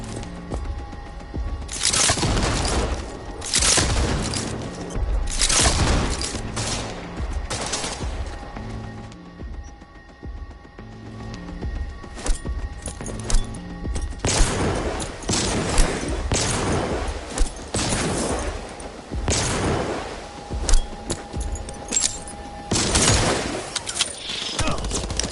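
Gunfire rattles through a Cyberpunk 2077 firefight, with repeated bursts of automatic shots, sharp single cracks and dense volleys rising and falling over a background score.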